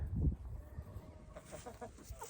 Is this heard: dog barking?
no